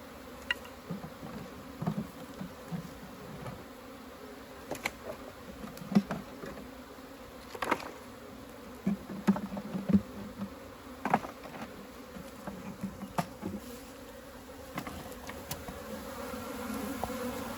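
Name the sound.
honeybees buzzing during hive inspection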